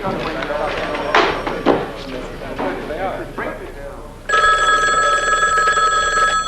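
An indoor telephone bell rings steadily and loudly for a couple of seconds at the end, following scraping and clattering sounds and a voice.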